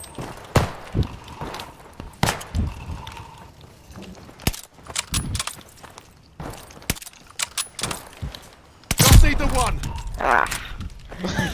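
Sniper rifle shots in a first-person shooter video game, a series of loud, sharp cracks scattered irregularly through the clip, mixed with game effects and footsteps, with people talking over them.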